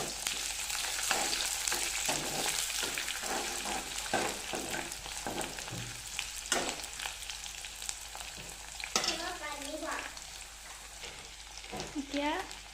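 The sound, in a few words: frying bay leaves and onion in hot oil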